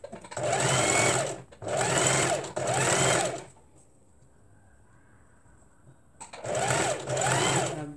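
A sewing machine stitching a wrap skirt runs in three quick close bursts, pauses in near quiet, then runs again in a final burst with a steady whirring motor tone.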